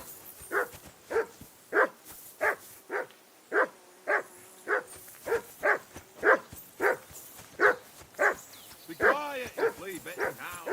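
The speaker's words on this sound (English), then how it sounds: "Jesus, Henry, that barking's driving me nuts. Can you get your dog to shut its beak?" A dog in Kingdom Come: Deliverance II barks repeatedly at a steady rhythm, about fifteen sharp nearby barks, ending in a brief run of whining yips.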